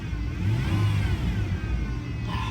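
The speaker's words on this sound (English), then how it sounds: "Give it a little rev." A flood-damaged Lexus car engine revs up close by, a steady smooth mid-pitched roar rising and holding for a couple of seconds with no talking.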